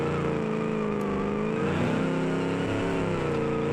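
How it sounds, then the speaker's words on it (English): Steady car engine drone with tonal whine and revving sweeps, a vehicle drifting in the BeamNG driving game, loud and continuous throughout with no talk. "the car in the back's drifting."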